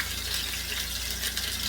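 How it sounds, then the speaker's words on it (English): Pot roast searing in a pan, a steady, close, even sizzle and crackle that carries on with no pauses and no talk. "Now what I like to do is I like to sear it for about just enough for it to barely brown"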